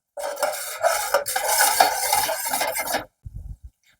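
A spoon scrapes and clatters against a pan while pav bhaji is stirred at home, with busy metallic scraping for about three seconds, then silence and a couple of soft low knocks.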